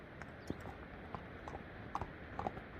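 Horse hooves clip-clop at a 2022 horse sale, light irregular clacks spread across a soft, faint background, somewhat distant.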